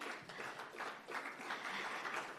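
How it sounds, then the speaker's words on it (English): Faint audience applause at an architecture excellence awards ceremony, steady distant clapping from a crowd that holds evenly for a couple of seconds. "join me with a big round of applause"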